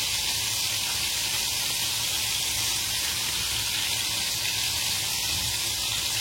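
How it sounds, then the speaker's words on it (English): Cornmeal-coated okra fries in a frying pan with a loud, continuous hissing sizzle that holds steady throughout, no voices. "And when frying this okra, guys, don't overcrowd your frying pan, okay?"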